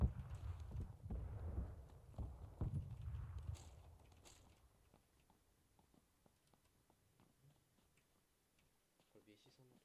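Footsteps in a video game: a string of light, clicking steps that start loud and busy under game noise and a talking voice, then thin out into fainter, scattered taps.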